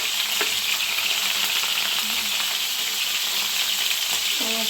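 Prawns with coconut pieces and garlic fry in oil in a pan, giving a dense, continuous close sizzle with occasional stirring scrapes.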